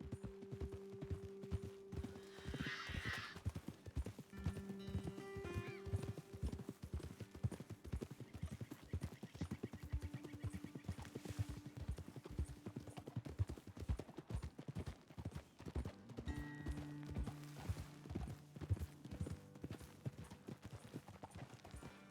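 Horses trotting in Red Dead Redemption 2, a steady clip-clop of hooves running throughout with a brief whinny, heard alone without talk.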